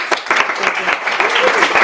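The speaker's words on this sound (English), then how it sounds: "let's give her a huge applause" An audience at a data talk evening breaks into brief, dense applause, close and fairly loud, lasting under two seconds.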